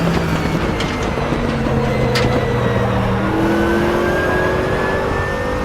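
A Mercedes AMG GT3 race car in the RaceRoom racing game drones loudly and continuously, its engine pitch climbing steadily as it accelerates through a lap, with no talk over it.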